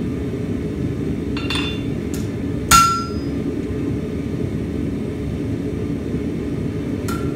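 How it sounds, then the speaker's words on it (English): A 3-pound hammer strikes a steel stamp into a hand-forged knife blade, giving one sharp, loud metallic impact that rings briefly, with a few lighter taps before and after over steady background hiss. "I did strike it pretty hard with a 3-pound hammer"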